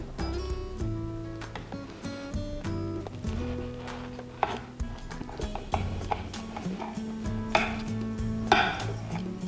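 A knife cuts a vegan barbecue sandwich in half. Sharp taps and crunches come up close and irregular against a steady background of music tones, with no talk.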